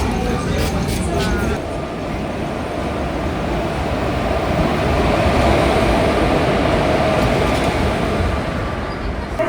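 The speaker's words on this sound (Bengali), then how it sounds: "প্রায় দু ঘন্টা লেটে ট্রেন ঢুকছে" A train rumbles steadily as it pulls into a station, a constant low roar under a voice speaking, with brief higher screeches early on.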